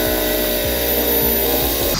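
A power drill bores out a fitting hole for a second fuel return line while installing a FASS 165 lift pump on a 2004 Ram 3500, a steady close whine with the motor's pitch shifting in short surges.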